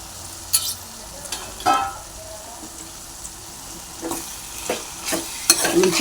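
Cauliflower egg curry is stirred in a hot pan, a low sizzle running underneath as a spoon scrapes and knocks against the metal in scattered, uneven strokes, close and fairly loud, with no talking.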